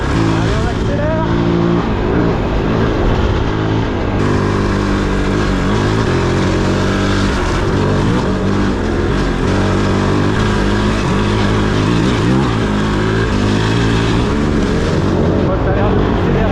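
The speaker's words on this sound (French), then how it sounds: "Allez, on accélère." A KOVE 450 rally motorcycle accelerates hard on a rally ride, its loud, rising engine drone steady and close throughout, with wind roar and no clear speech.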